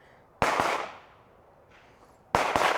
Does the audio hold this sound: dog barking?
no